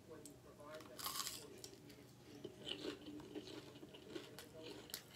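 Onion rings crunch under a few quiet bites and chews at close range, set against faint background sounds.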